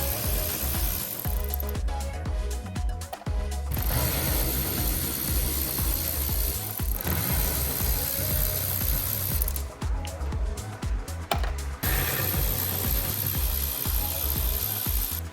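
A ratchet works bolts loose behind the wheel arch liner of a cheap Audi TT, with busy metallic clicking and mechanical rattling that runs nearly continuously, loud and close, broken by a few brief pauses.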